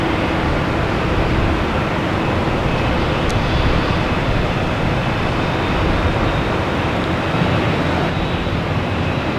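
Steady broadband roar of an American Airlines Boeing 737-800 jet airliner at Boston Logan Airport, loud and continuous with wind noise, no talk over it.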